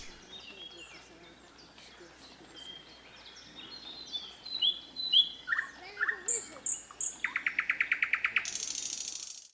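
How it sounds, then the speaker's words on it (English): A bird sings a bright, varied melody of whistled notes and rapid trills, clear and close, over faint background murmur. "inconspicuous bird lands on a branch nearby, rises up its head, and lets out a melody so pure and soothing"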